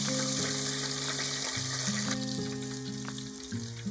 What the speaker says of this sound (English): heat the oil to 180 Celsius degrees and fry the karaage again